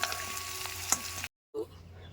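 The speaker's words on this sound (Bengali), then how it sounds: "এবার এগুলো আমি ভাজা ভাজা হতে দেবো কিছুক্ষণ।" Potatoes fry in fish oil with a close, steady crackling sizzle and a scrape of stirring, then cut out to silence before the sizzle briefly returns.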